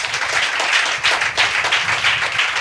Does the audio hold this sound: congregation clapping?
yes